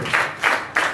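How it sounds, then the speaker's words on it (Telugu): Three short bursts of loud clapping from a congregation at a Sunday worship service in Warangal, each swell rising and fading in quick succession. "గట్టిగా చప్పట్లు కొట్టి"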